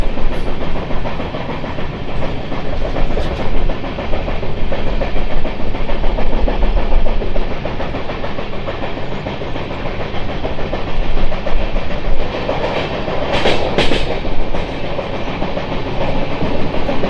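The Charlapalli Superfast Express (12603, Chennai Central to Charlapalli) runs steadily on the rails with a loud, continuous rumble and rapid wheel clatter, plus a brief hissy burst near the end; no voices.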